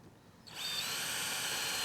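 A power drill spins up and bores a hole in wood, its high whine starting abruptly after a quiet moment and holding steady and close to the end.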